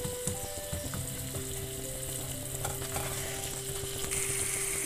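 Chopped onions fry in melted butter in a pan for pav bhaji, giving a steady close sizzle with occasional stirring scrapes and no talking.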